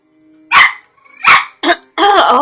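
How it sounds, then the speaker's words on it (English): A dog barking excitedly at a noisy toy, four loud close barks in quick succession, the last one longer and more drawn out. "have a toy that's making like noise and my dog's going nuts."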